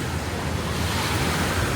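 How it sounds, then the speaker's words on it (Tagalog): Ocean surf washes steadily onto a beach in Hulhumale, Maldives, a close, loud, continuous roar of breaking waves mixed with wind buffeting the microphone. "So guys, for now, dito kami sa may beach side. So ayan. Takada mo sa Rapati. Ito yung beach nila."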